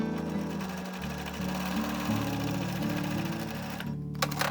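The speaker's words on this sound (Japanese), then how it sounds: "両端にステッチで押さえます" A sewing machine runs continuously as it stitches down both edges of a remade knit sweater, a close, loud mechanical whir that stops near the end, followed by a couple of light clicks.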